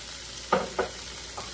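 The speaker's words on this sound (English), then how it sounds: "We're going to get these sausage cooking in here." Sausages frying in a little oil in a skillet give a steady soft sizzle, broken by a couple of brief scraping stirs close by.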